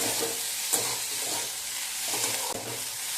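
Chopped tomato sautéing in a hot pan for kande pohe, a steady close crackling sizzle broken by a few soft scraping stirs of the spatula, with no voices.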